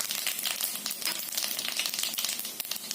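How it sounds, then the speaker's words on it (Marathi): Mustard seeds crackling in hot oil with cumin, fenugreek and spices for a tempering, a dense run of quick sharp pops and hiss at moderate level, with no voices. "तेल तापल्यानंतर त्यामध्ये मोहरी घालायचं."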